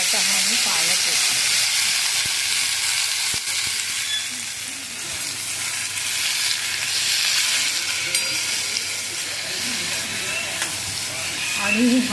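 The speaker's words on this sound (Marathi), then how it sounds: "त्यामध्ये आता हा मी पालक ओतते" Spinach poured into hot spiced oil tempered with asafoetida sizzles and hisses loudly and continuously, a dense frying roar that rises and falls slightly, with a voice faintly talking underneath at times.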